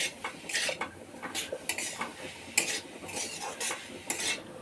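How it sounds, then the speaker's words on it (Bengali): Red amaranth greens with turmeric are stirred in a pan, a utensil scraping and clinking against the metal in irregular strokes, with a faint sizzle beneath, close and fairly quiet. "এবার একটু হলুদ দিয়ে দেব, দিয়ে আবার একটু নাড়াচাড়া করে নেব।"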